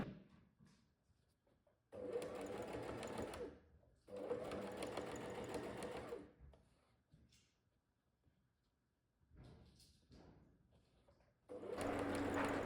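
Bursts of a sewing machine stitching Liberty fabric quilt patches together for a disappearing nine-patch quilt, several runs of a couple of seconds each, separated by quiet gaps.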